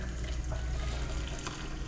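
Boiling water poured over eight scoops in a container on an Alaska homestead, a loud steady splashing gush lasting throughout, close up and without talk.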